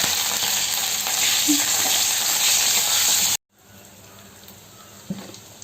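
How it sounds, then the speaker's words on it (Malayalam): Mustard seeds and ginger fry in oil for a pickle, a loud, dense sizzle that cuts off abruptly after about three seconds, followed by quieter room sound and a faint clink; nobody talks. "കടുകും ഇഞ്ചിയൊക്കെ വാട്ടിയെടുക്കുക കേട്ടോ. കടുക് പൊട്ടിച്ചിട്ട്"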